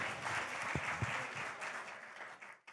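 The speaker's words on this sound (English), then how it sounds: "Can we have another round of applause for that?" Audience applause at a live talk event, a steady wash of clapping with a couple of sharper claps standing out early, then thinning and fading toward the end.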